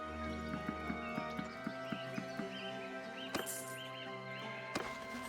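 A herd of horses moving in a Three Kingdoms strategy game: steady, evenly spaced clip-clop hoofbeats over a sustained tonal backdrop, with a couple of sharper, brighter hits near the end.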